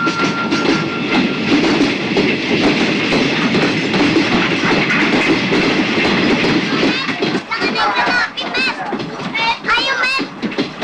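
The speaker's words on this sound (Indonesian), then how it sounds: "KRL di spur 2 akan segera masuk" A commuter train rolls steadily into platform 2 of an Indonesian station with loud, continuous rumble and clattering wheels, people's voices mixed in throughout.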